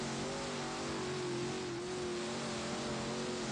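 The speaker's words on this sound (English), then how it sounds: "Can kind of hear a car" A race car engine in the dirt track racing game Dirt Trackin 2 drones steadily at a constant pitch with a faint hiss, with no talking.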